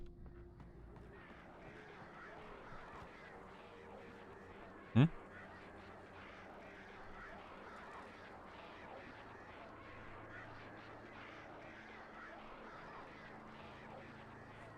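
Duck-like quacks and honks from birds in the video game Alan Wake sound quiet and distant over a low ambient bed, with one sharp click partway through.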